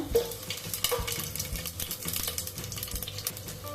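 Whole garam masala spices, shahjeera, cinnamon, cloves and peppercorns, crackle and sizzle in hot oil for a Telangana-style chicken curry, with a steady close fry and stirring scrapes, no voices.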